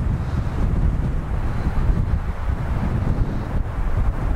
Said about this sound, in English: Windy today though, and chilly.